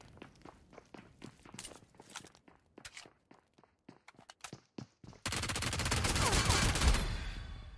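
Gunfire from shooting an enemy in PUBG Mobile: sparse, soft footstep-like taps give way to a sudden, loud, sustained burst of rapid shots that lasts to the end.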